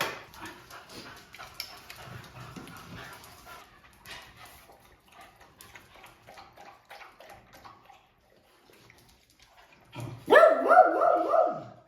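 Dogs lap and splash at a stainless steel large-capacity pet water fountain, soft wet drinking sounds close by, followed near the end by a short burst of louder barking and whimpering.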